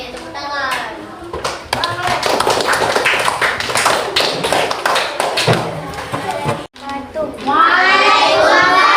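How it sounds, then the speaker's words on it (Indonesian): Schoolchildren clap their hands in a classroom lesson, a dense, fairly loud patter of many small hands that runs for several seconds, with children's voices chattering around and after it. "Oke, tepuk tangan."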